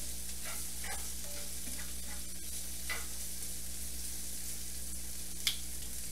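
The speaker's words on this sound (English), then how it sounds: "I'm going to turn the onions up to a medium." Onions frying in a pan on a home stove, a steady low sizzle running throughout with occasional soft stirring scrapes and small clicks, no talking.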